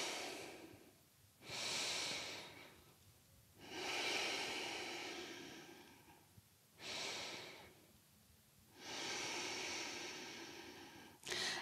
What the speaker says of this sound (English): Take a few breaths here.